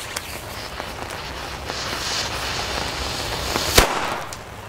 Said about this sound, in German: Sehr geil, dieser Silberblitz,